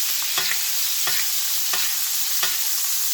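A steak sizzles in a cast iron pan while being basted. Steady frying hiss is broken by four evenly spaced spoon scrapes and splashes, close and clear with no talking.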